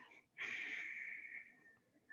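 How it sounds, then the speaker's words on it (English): Forceful nasal exhale during a breathing exercise, a raspy, hissing Darth Vader-like rush of air lasting over a second, then tapering off, followed by a brief short sniff at the end; close and alone with no talk. "when you exhale through your nose, you're going to hear a Darth Vader sound"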